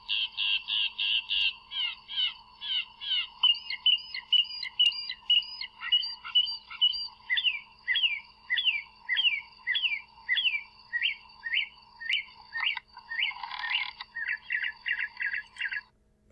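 A mockingbird mimics a car alarm, cycling through rapid repeated electronic-sounding phrases: warbling trills, then descending whoops, then fast chirps, loud and close.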